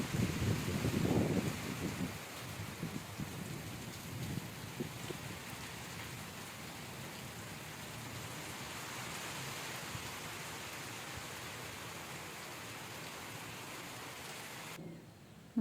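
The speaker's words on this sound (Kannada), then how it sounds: "ಇವತ್ತು ಜೋರು ಮಳೆನೇ ಹೋಯ್ತಾ ಇದೆ" Heavy rain pours steadily as a dense, even hiss, with a few louder thumping knocks near the start before the downpour settles into a constant wash.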